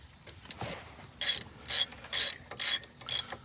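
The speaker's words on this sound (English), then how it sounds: "it is a 1/2 inch socket on a big ratchet" A big ratchet with a 1/2 inch socket working on the rear brakes of a Jeep Liberty, five loud, evenly spaced rapid clicking bursts up close after a quieter start.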